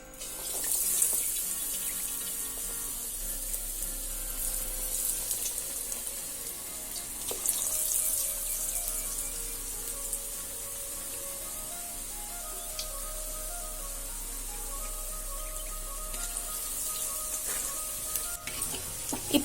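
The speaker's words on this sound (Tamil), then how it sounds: "இப்போ நம்ம செஞ்சு வச்சுக்கிற உருண்டையை மாவில் டிப் பண்ணி எண்ணெயில் போட்டுக்கலாம்" Batter-dipped vegetable bonda balls frying in hot oil in a home kitchen, giving a steady, continuous sizzle with faint bubbling and occasional small clinks, alone without talk.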